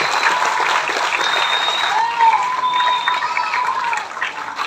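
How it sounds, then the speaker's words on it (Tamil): An audience applauds at a Tamil-language talk, with dense, even clapping from many hands that holds steady for several seconds. "ஒரு கைத்தட்டலாமே இதுக்கு."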